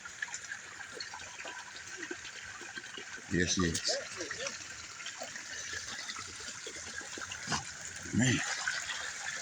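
Water flowing out of a hillside near a pond, a steady trickling and gushing wash heard close by throughout, with someone speaking briefly over it twice.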